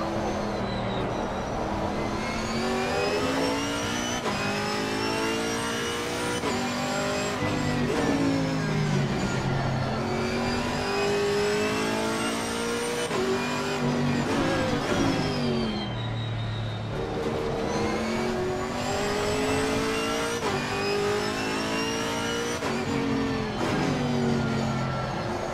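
Camaro GT4.R race car engine in Assetto Corsa Competizione, revving hard through repeated upshifts and downshifts with rising and falling whine, steady and loud throughout, tyres sliding at times.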